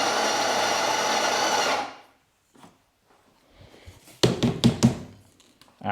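DeLonghi La Specialista Arte built-in grinder running loud and steady for about two seconds, then stopping, followed by quieter taps and knocks of the portafilter and machine parts.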